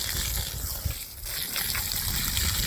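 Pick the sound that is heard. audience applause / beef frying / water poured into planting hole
water poured into planting hole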